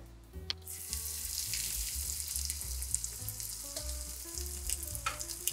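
Breaded ham and cheese rolls frying in hot oil, a steady close sizzle with bright crackling spits throughout, no voices over it.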